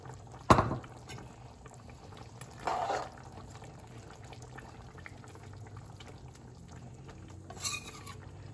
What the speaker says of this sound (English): And now I'm gonna add the saijan